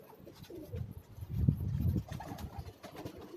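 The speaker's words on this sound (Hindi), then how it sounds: "ये मैदुमे कबूतर हैं शाहजहांपुरियों के। मैदुमे कबूतर जी, ये भी एक एंटीक ब्रीड है" Maiduma pigeons, an antique breed kept in rooftop lofts, coo in low, soft rolling phrases that swell in the middle, close by amid faint background chatter from other birds.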